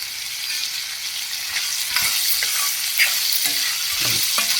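Chopped green chillies are added to hot oil in a pan for pea pickle. They hiss and sizzle steadily while a spoon scrapes and stirs through them in repeated strokes, up close, with no voices.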